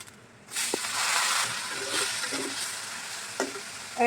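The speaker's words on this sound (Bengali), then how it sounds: "এইখানে পেঁয়াজ ভাজা হইতেছে" Onions sizzle and hiss in a hot pan after a quiet start, with occasional scrapes and taps of stirring breaking through.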